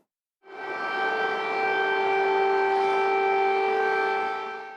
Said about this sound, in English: As the sirens blare, in Kyiv they wait